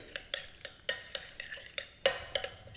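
A spoon stirs pepper and seasoning through a colourful dish, making rapid, regular light taps and scrapes against the bowl about three times a second, with a couple of louder clacks, close and quiet with no voices.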